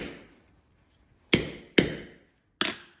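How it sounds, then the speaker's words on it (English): A horseshoe struck with a hammer on an anvil: three sharp, ringing metallic blows, two close together and a third after a short pause, each decaying quickly into quiet. "hammer and anvil and"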